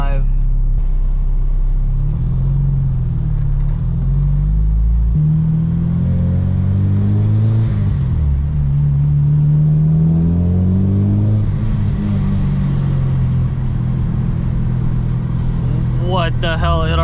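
A supercharged K20-powered Acura RSX accelerates on its first drive, the engine droning loudly from inside the cabin as its pitch climbs and drops through gear changes, with supercharger whine rising near the end and voices talking over it.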